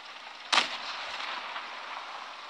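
A single tank gun shot in the video game World of Tanks Blitz, a sharp loud report followed by a hissing, rumbling tail that fades under steady game background noise.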